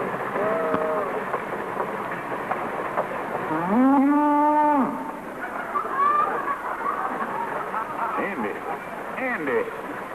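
A cow lets out a loud, drawn-out moo, with fainter lowing from other cattle being loaded up a ramp for shipment, over a steady background rumble.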